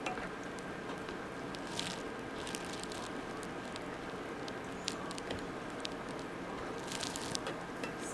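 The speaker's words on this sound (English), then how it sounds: "I'm stirring it well and bring up the heat a little bit to a nice simmer" Ground chicken simmers in a soy-based orange sauce while being stirred, a soft, constant bubbling sizzle with occasional light scraping, faint and alone.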